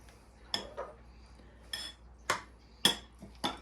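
Utensils mix bibimbap in a bowl: a handful of sharp metallic clinks and scrapes against the dish, irregularly spaced and fairly close, over a quiet background.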